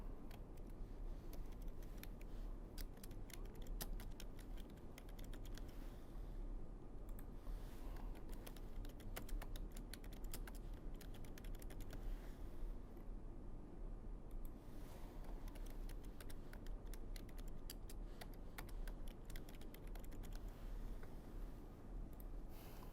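Soft, rapid keystrokes patter steadily on a computer keyboard over a constant low hum, with brief pauses between bursts of typing and no one speaking.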